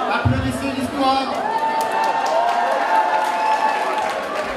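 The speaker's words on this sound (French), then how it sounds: "Applaudissez l'Histoire." Audience applause and cheering for the winning team, History 2, at a university quiz show at the Sorbonne, clapping mixed with crowd voices and whoops, moderately loud and continuous with talking over it.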